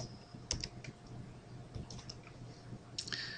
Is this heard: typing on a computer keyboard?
yes